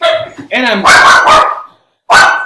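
A pet dog barks in the background of a home recording, several sharp loud barks in quick bursts with a pause between, mixed with a person speaking.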